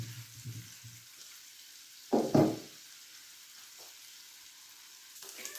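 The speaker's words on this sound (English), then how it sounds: "fry till they become golden brown" Small sardines (omena) fry quietly in a pan with a low sizzle, broken by a brief loud clatter or splash in the middle as more fish go in.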